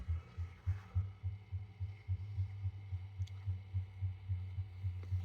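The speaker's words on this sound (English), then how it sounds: "I don't know if it's supposed to make a heartbeat sound" A Black Hole pinball machine under repair gives off a steady, low, throbbing heartbeat pulse, repeating about twice per second at a moderate level over a faint electrical hum.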